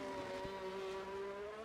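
An F1 car in the F1 22 game, Belgian Grand Prix at Spa, takes the bus stop chicane during a qualifying lap, a steady high engine whine with shifting pitch and a brief thump, continuous and fairly close.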